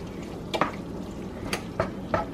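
Spoon stirring stuffed bell pepper filling in a bowl or pan, with a few distinct scraping clinks spaced through a quiet background and no talking.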